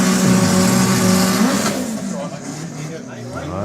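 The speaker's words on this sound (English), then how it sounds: "Right, the sound of another one of our 4-cylinder cars." A 4-cylinder Honda Civic drag racing car at a drag racing meet revs loudly up close, its engine note climbing, then fades as it pulls away, leaving crowd and track noise behind.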